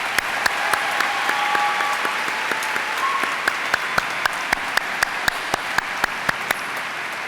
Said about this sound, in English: Please now give all stage guests a round of applause.